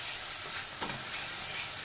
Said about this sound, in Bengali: মশলা বেশ ভালোভাবে কষানো হয়ে গেছে, সাইড থেকে তেল ছাড়তে শুরু করেছে